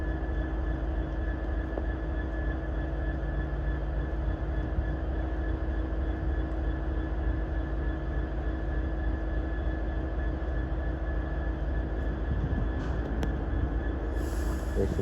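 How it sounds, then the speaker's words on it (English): West Coast passenger train departing Crewe for London Euston, a steady low rumble and hum of traction heard from a distance, even and continuous throughout, with a brief sharper sound near the end. "Now departing is the 1432 Adventure West Coast service to London Euston"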